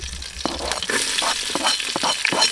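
Onions frying in a pan as the base for a prawn gravy, a dense continuous sizzle with quick stirring taps and scrapes scattered throughout, close and fairly loud, without talk.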